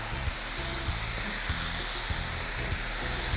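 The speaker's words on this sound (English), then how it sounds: "So we'll allow this to fry properly" Tomato fries in a pan for spaghetti jollof, giving a steady, dense sizzle that carries on throughout with soft stirring bumps underneath and no talking.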